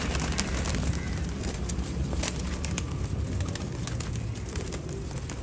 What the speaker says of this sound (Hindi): बड़े लाजवाब कबूतर माशाल्लाह ब्यूटी टैडी कबूतर जे